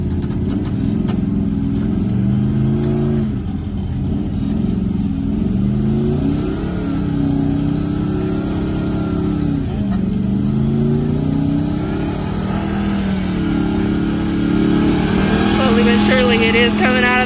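A truck engine revs hard, pulling a truck out of mud in a farm field; the loud, sustained roar rises and falls in waves throughout.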